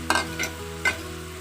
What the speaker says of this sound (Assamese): পিঁয়াজ টমেটো ভুনা হৈ গৈছে